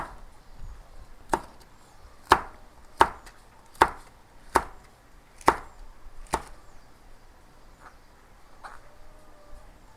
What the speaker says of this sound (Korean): 홍고추 하나 정도 썰어 넣으면 될 것 같아요